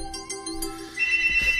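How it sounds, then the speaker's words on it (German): A phone ringing in the video game Deadly Premonition, a bright electronic ringtone that starts with a few chirps and swells into a steady, loud tone over a low background hum. "So, mein Telefon klingelt."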